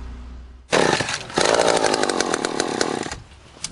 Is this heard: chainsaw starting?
yes